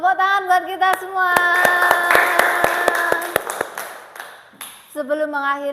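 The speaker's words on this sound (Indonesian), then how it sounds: "tepuk tangan buat kita semua" A classroom of children clapping hands in a quick, even rhythm of about ten sharp claps, with a teacher's sung voice continuing over and around the claps.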